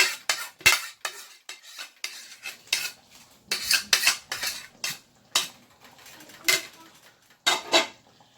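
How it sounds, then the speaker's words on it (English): Metal spoon clinks and scrapes against a pan while ladling gravy over homemade hamburger patties, a string of sharp, close taps and scrapes in an irregular rhythm with no talking. "Just want to spoon, put a little bit of the gravy on top of the patties."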